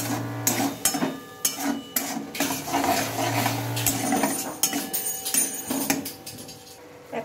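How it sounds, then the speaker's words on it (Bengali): A utensil clinks and scrapes steadily against a bowl or pan while tomato sauce and water are stirred together, a rhythmic metallic tapping and rasping with no voices over it. "সেই সাথে দিয়ে নেবো খানিকটা জল। এগুলো ভালোভাবে মিশিয়ে নেবো।"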